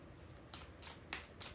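Tarot cards are riffled back into the deck in three or four short, crisp papery bursts, soft and close, with quiet pauses between them.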